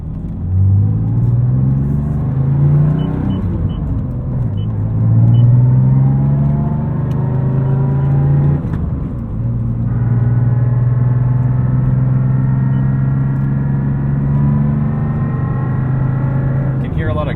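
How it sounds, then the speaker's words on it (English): A 2002 Porsche 996 911 Turbo with 600 hp drones loudly with a steady high gear whine rising through each gear, heard from inside the car as it accelerates. "Gear whine back there"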